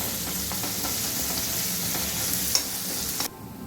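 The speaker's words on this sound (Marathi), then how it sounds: "10 ते 12 पानं कढीपत्ता व्यवस्थित ढवळून घेऊ." Curry leaves and crushed green chilli frying in a pan, a steady broad sizzle with soft scraping strokes of stirring, ending abruptly in quieter background near the end.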